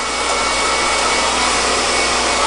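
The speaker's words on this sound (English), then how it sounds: "Get it heated and then pull away the blow dryer" Hair blow dryer running during a salon blow-dry, a loud, steady, close-up whooshing roar.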